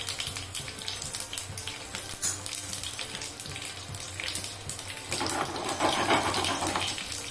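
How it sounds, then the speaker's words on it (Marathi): Water pours into a cooking pan in a continuous splashing stream, close and fairly loud, swelling stronger in the last couple of seconds. "पाणी टाकायचं मग"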